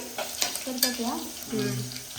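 Tempering sizzles in a hot pan while a spoon stirs and scrapes, with a few clinks against the metal, as onion softens and curry leaves are about to be added.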